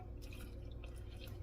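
Filtered water poured into a sourdough starter, a steady close trickle and splash of liquid running continuously under a low background hum.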